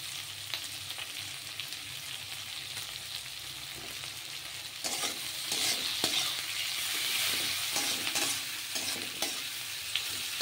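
Chicken coated in an onion, garlic, ginger, green chilli and tomato paste fries in a pan, sizzling steadily with scraping stirs throughout and growing louder and busier in the second half.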